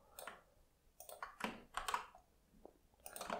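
Quiet bursts of computer-keyboard typing while writing JavaScript code, clustered clicks with short pauses between runs of keystrokes, close and fairly soft with no talking.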